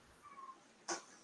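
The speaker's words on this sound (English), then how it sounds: "Oh, you hear the one meowing back there?" A sick cat meows once, short and faint, in the background of a quiet room, following a softer earlier vocal murmur.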